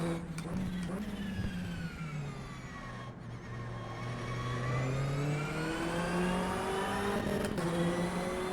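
Close, loud GT3 race car engine in rFactor 2, revving steadily with rising and falling pitch across the run, one brief dip around the three-second mark, sustained without talk.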